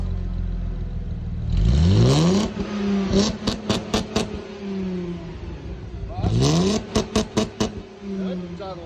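Car engine revved hard twice as the gas is pressed, each surge rising in pitch then dropping into a series of sharp rhythmic blips, loud and close, with talk under the idling engine between revs.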